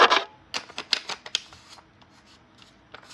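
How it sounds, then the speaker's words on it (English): The threaded cap of a 1957 Western Electric 500 rotary telephone handset is screwed back on over a 44A receiver. The plastic makes quick, close clicking and ratcheting scrapes in uneven bursts, with a louder rasp at the start. "Screw the handset back on."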